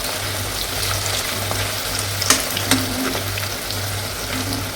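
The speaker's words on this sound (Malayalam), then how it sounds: "ആ എണ്ണയിലോട്ട് നമ്മുടെ ആ കേരച്ചൂര ഇങ്ങനെ ഇട്ട് കൊടുക്കുകയാണ്." Tuna pieces frying in hot oil for a homemade tuna pickle, a steady close sizzle and crackle with a low pulsing hum beneath and a couple of sharp clinks, no voices.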